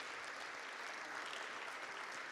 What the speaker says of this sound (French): je vous propose qu'on applaudisse le président encore une fois